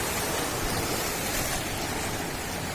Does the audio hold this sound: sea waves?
yes